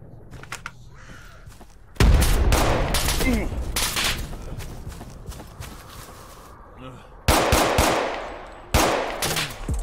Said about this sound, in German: JSRS Sound Mod bietet euch viel bessere Soundeffekte für das Thema Waffen und alles